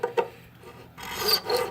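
A file rasping a string slot into a tenor ukulele nut, short strokes with a brief scrape, a pause, then a longer sustained rasp close by, with no talking.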